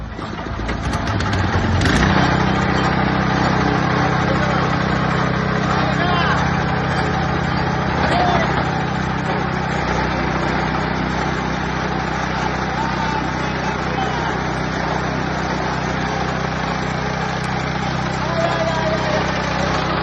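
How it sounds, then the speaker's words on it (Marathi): A petrol engine drives a chaff cutter on a farm, running with a steady loud mechanical drone and whirr for the full stretch, starting up near the beginning, with voices talking over it. "सध्या आपण पेट्रोल इंजिनवरती मशीन फिट केलेली आहे लाईन नसल्यामुळं"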